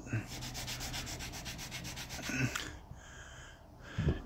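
Hand sanding with a sand pad around nail heads on shiplap boards, a close, rhythmic scratchy rubbing that runs in quick strokes, then pauses with a few faint bumps and breaths.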